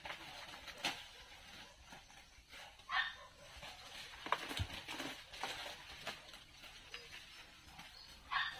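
Dogs bark faintly in the distance on a farm, scattered yips and barks spread out over several seconds against a quiet outdoor background.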